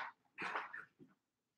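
A small puppy in her cage gives a few soft, short whimpers and yips, close and quiet, then falls silent.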